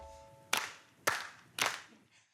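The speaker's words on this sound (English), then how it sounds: "Can you make your hands go clap," Three sharp, evenly spaced hand claps ring out alone and close up, each a crisp burst with a short decay and quiet gaps between.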